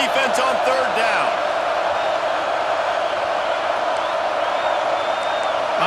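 A roaring stadium crowd in the video game EA Sports College Football 26 at a South Carolina home game on 3rd down, a constant wall of cheering and whooping with a commentator speaking over it.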